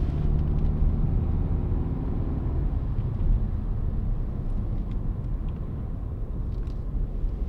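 A rally car engine roars at full throttle on a stage at La Pommeraye. The dense, loud rumble holds steady from close inside the car, with no pause and no talking.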